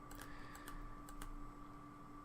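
Someone types commands on a computer keyboard in Star Wars Galaxies, a few soft key clicks in an uneven rhythm over a faint steady hum.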